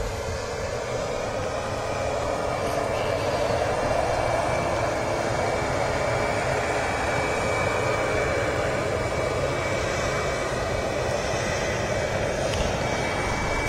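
A Boeing 737 MAX jet with LEAP engines at Manchester Airport gives a steady, continuous roar that stays even in loudness for the whole stretch, with no talking.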